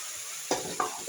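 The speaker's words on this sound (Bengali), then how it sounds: "মশলাগুলো প্রায় ভাজা হয়ে গেছে।" Spices fry in a pan with a steady, close sizzle, broken by two or three quick scraping stirs in just over a second.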